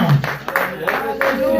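A church congregation clapping hands during worship, with a few loud, roughly regular claps sounding close and mixed with singing or talking voices.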